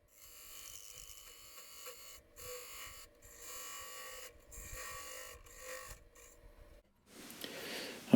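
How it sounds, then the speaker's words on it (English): A wooden goblet bowl being hollowed on a lathe with a spindle gouge gives a faint, steady machine whine broken by soft intermittent scraping passes, ending in a brief louder burst. "I'm further hollowing out the bowl of the goblet here using a spindle gouge"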